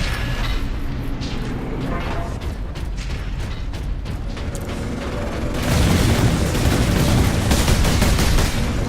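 Gunfire and grenade blasts in the Warhammer 40,000: Space Marine video game, a steady rattle of shots and mechanical clatter that swells into a loud, sustained roaring burst in the last few seconds.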